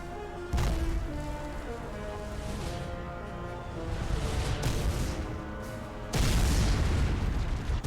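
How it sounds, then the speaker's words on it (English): Heavy cannon fire booms in the Spyro: Dawn of the Dragon game, with a loud blast near the start and another around six seconds, over a continuous rumbling din of battle. "Is that cannon getting more powerful by the second, or am I just imagining it?"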